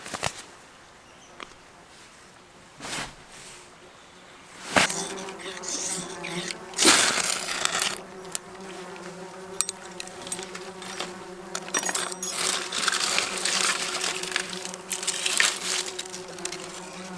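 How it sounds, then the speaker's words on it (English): Flies swarm around food at a wild Tasmanian summer campsite, their steady buzzing filling the air for the whole stretch, close and fairly loud, with a few sharper passes and rustles and no talking. "Please don't mind the noise of the flies."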